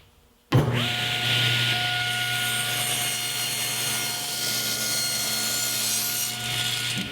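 A table saw rips the groove off an old wooden flooring board, a loud steady whine that starts abruptly and holds for about six and a half seconds with no talking.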